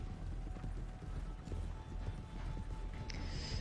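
Horse hooves in the video game Red Dead Redemption 2, a busy clip-clop of galloping steps over a low rumble, continuous and close throughout.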